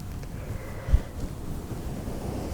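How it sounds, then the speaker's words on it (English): Ocean waves washing onto a cold shoreline as a steady low rush of surf, with one slightly louder swell near the start, continuous and moderately near under a soft wind-like hiss. "As you listen to the waves crash"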